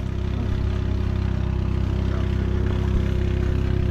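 A steady engine idles close by with a constant low rumble and no revving, running alone without voices.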